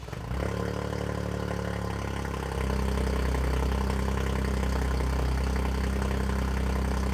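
A Toyota GR Corolla with an aftermarket catback exhaust idles close by with a steady low rumble, then the throttle is blipped and the engine note rises and holds louder for the rest of the clip.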